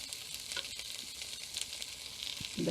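Potato and spices such as chilli powder, coriander and cumin powder sizzle and fry steadily in a pan with onion while chana masala is made, a close continuous hiss with a brief stir near the end.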